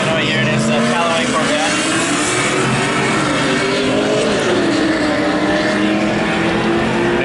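Nissan GT-R racing a Callaway Corvette, a loud steady engine roar from inside or near the car, sustained throughout with rising and falling tones of acceleration; talk is mixed in.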